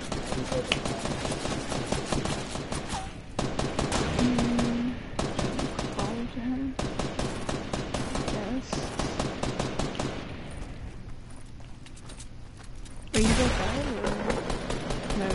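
Sustained automatic gunfire in Fortnite, long rattling bursts with brief pauses, loud and close, mixed with game effects and occasional talk.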